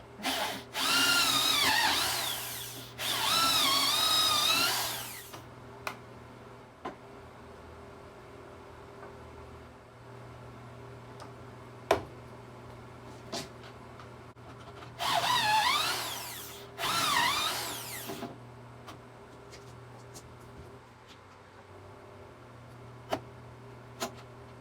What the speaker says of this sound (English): Now I'm going to drill my pocket screws.